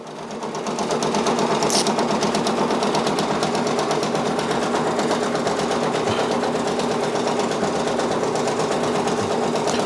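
Brother Persona PRS 100 embroidery machine stitching a design: a loud, fast, steady mechanical needle rhythm with an even whirring motor hum, running continuously up close.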